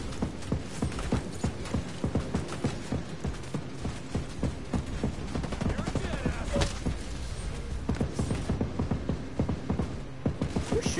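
Rapid, continuous gunfire from a video game shooter, Ghost Recon Breakpoint, crackling in dense bursts throughout with steady mechanical hum behind it.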